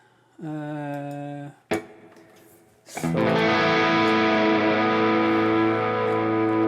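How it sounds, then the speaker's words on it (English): Electric guitar, a Harley Benton Fusion 3, playing a crunch tone through a NUX MG-30 modeler: a short sustained chord, a muted strum, then a loud ringing distorted chord held to the end, with no voices. "let's check out some crunch tones"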